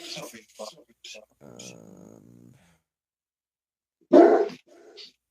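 A dog barks and huffs in short bursts, with one loud close bark near the end, amid quiet room noise and brief pauses.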